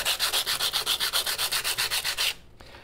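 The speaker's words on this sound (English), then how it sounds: "what we really want to do when we're sanding is we want to sand with the grain as much as possible" Sandpaper rubs rapidly back and forth with the grain on a turned wooden bowl in a steady rhythmic scratching that stops abruptly near the end.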